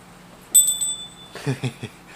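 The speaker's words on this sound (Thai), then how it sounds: "ใครได้ยินเสียงกระดิ่งนี้เหมือนเสียงสวรรค์" A small luck bell is shaken during a Thai daily horoscope broadcast, ringing out with one bright sustained chime followed by several shorter, quick jingles, close and clear with no talking.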